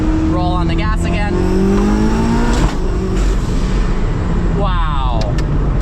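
SSC Tuatara hypercar, 1750 hp, accelerating hard from the cockpit: a loud engine rising steadily in pitch through quick upshifts, roaring continuously from start to end with no break.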